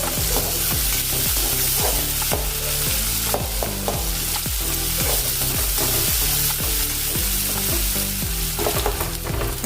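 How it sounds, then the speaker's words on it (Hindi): Onion and asafoetida fry in a pan with a loud, steady sizzle, broken by repeated scraping clatters of stirring throughout. "अभी इसमें प्याज डालेंगे। थोड़ा सा हिंग डालेंगे।"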